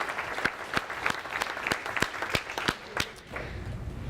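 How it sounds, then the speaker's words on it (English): An audience at a 2018 T1D Summit applauds to welcome a speaker, with steady, dense clapping lasting about three seconds before it thins out and stops. "Let's give her a big hand, ladies and gentlemen."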